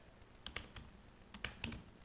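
Code being typed on a computer keyboard: a few quick, crisp key clicks in two short bursts, close and fairly quiet, with no voice.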